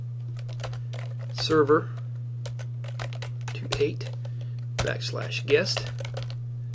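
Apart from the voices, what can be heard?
typing an IP address on a computer keyboard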